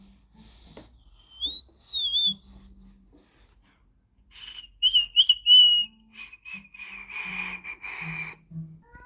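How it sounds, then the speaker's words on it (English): A whistle blown repeatedly in short, warbling, high-pitched bursts, sliding up and down in pitch with brief gaps between blasts, close and clear in an otherwise quiet room. "I better need to stop using that whistle."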